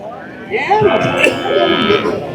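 Kangeyam breed cattle moo at the Kundadam cattle market, a loud, close, drawn-out lowing call over steady market background noise.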